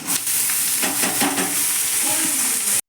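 Boiled cabbage hits a hot pan and sizzles loudly while being stirred for a cabbage stir-fry, with a steady fry hiss and spoon scrapes up close before a brief cut-off.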